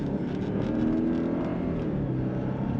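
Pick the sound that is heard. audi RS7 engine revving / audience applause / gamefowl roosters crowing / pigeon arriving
audi RS7 engine revving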